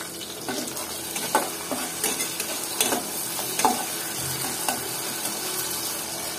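Onions frying in oil in a pot for a beef, cabbage and pea curry, a continuous close sizzle broken by repeated scraping stirs and light clinks, no voices.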